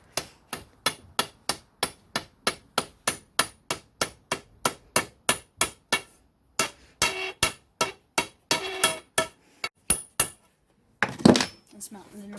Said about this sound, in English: take your shaved down wooden dowel and hammer it into the tube